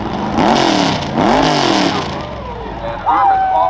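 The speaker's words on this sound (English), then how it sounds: "2012 Ford Raptor four-wheel drive." A 2012 Ford Raptor four-wheel-drive truck in the modified class of a rough truck competition at the Hartford Fair revs hard in two loud, rising and falling surges, then roars again near the end, with an announcer talking throughout.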